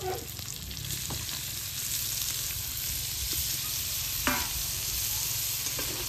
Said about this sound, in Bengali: মাশরুম দিয়েও ভালো করে কষে নিতে হবে কিছুক্ষণ